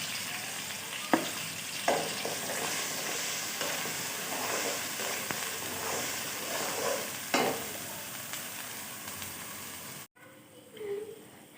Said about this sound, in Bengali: পেঁয়াজের আমার তেলটা ছেড়ে দিয়েছে আর ভাজা ভাজাও হয়ে গিয়েছে